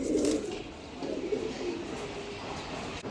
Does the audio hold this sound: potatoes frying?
no